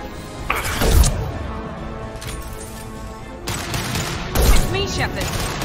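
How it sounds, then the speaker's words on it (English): A high-impact gunshot in a video game, with two heavy booming blasts about three seconds apart over a dense background of game noise and mixed effects. "Firing a high impact shot! Watch out!"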